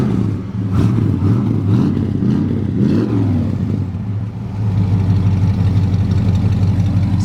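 A 1940 Ford Deluxe's 351 Cleveland V8 with dual exhaust and a mild street cam idles close by with a loping rumble, a brief rev swelling and falling midway before the steady idle resumes.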